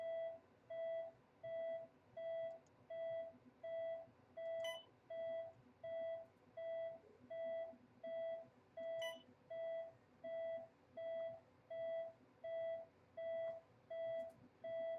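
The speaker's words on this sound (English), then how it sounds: "Sounds like an alarm clock. Well, it's actually apparently it's his medical gear." Repeating electronic beeping from a character's medical gear alarm in a video game, a steady rhythmic pulse of evenly spaced tones running throughout, with a few faint sharp clicks.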